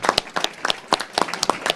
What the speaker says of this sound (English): he needs a round of applause for that